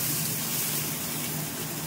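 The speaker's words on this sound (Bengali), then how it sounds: "এবার ঢেঁড়সগুলো ছেড়ে দিচ্ছি।" Okra dropped into hot oil after fried potatoes, giving a steady, close sizzle and hiss that holds evenly throughout with no voices.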